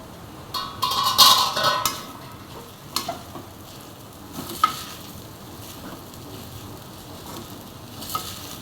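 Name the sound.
ajwain tempering sizzling in oil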